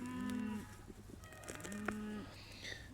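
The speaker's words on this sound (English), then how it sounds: "So the cattle are all bellowing because they want me to give them a bale" Cattle waiting for a hay bale on a farm let out two long, deep moos nearby, one after the other, over a low steady hum.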